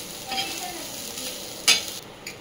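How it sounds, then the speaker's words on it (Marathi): Semolina roasts in ghee in a pan for white steamed modak, a soft continuous sizzle under light stirring with one sharper scrape of the spoon near the end. "तुपावर खालीवर परतून घ्यायचं आहे"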